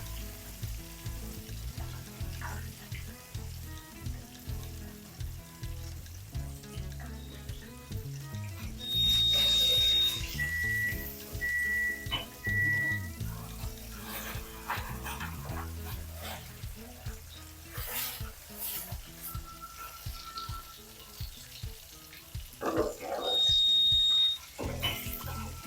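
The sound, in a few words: chicken frying and sizzling in oil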